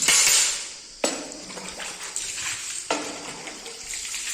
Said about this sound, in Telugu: మా ఆయనగారు అయితే నీళ్ళు పోస్తున్నారు నాకు అందిస్తున్నారు నేనైతే ఇక ఇదంతా కూడా కడిగేస్తున్నాను